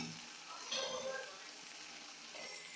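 Potatoes fry in hot oil in a kadai with a faint, continuous sizzle and a brief swell of crackling near the start, heard quietly and close up.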